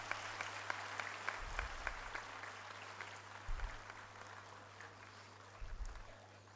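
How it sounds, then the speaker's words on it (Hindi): Short bursts of audience clapping in a hall at an awards event, a few brief rounds of applause rising and fading over a steady low hum. "एक छोटी ताली"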